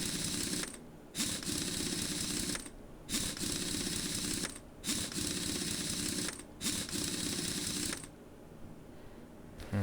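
Wheel being fitted on a '96 Chevrolet Camaro in Car Mechanic Simulator 2021, a loud rapid mechanical whirring from a power tool in four bursts of about two seconds each, separated by short gaps, ending in quieter background.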